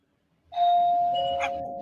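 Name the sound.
doorbell ringing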